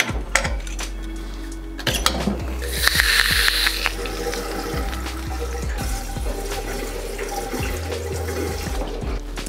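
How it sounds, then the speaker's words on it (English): Water flushes through a still after a distilling run, running and splashing steadily like a tap filling a sink, with a hissing burst in the middle and occasional clunks and knocks, close and without talk. "After most of my runs, literally all I do is flush the thing out with water."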